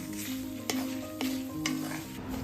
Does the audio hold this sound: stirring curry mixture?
yes